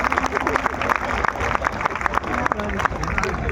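Audience at a Hindi comedy poetry show clapping, a loud, dense burst of applause from a large crowd with babble and voices mixed in throughout.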